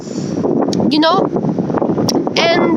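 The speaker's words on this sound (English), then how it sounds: "it started to be very windy." Strong gusts of wind buffet a microphone outdoors, a loud, continuous rumble, while a person speaks over it throughout.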